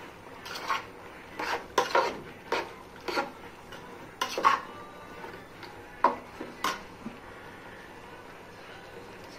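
Beef with spices being stir-fried in a pot for a biryani, a metal spoon knocking and scraping against the pot in irregular bursts with pauses between, close and fairly loud, no speech.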